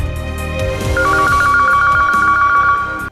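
A phone ringtone in a Korean drama scene plays loud and close as a steady, repeating electronic melody that holds for about two seconds before cutting off.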